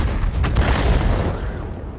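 Tank cannon fire in the World of Tanks video game, an Object 777 firing across a mountain pass: dense booming shots with rumbling low end, loud and continuous, rolling with no clear gaps between blasts.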